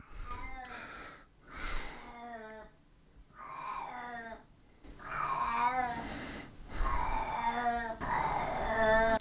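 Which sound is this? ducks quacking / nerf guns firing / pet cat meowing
pet cat meowing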